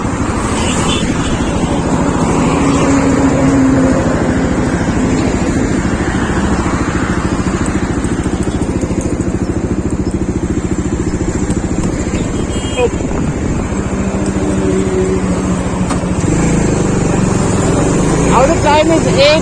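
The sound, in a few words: motorcycle riding on highway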